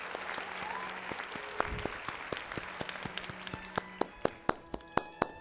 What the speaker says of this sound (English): Ladies and gentlemen, put your hands together.